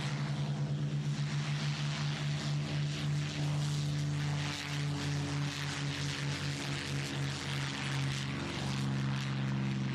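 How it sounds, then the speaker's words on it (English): Spitfire aircraft engines start and run up for takeoff, a loud, steady propeller drone with a deep harmonic hum that shifts in pitch over ten seconds, heard alone with no voices. "fire up the engines, strap in, and take off, get this show going."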